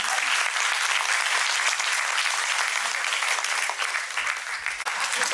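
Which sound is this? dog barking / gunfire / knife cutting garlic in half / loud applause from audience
loud applause from audience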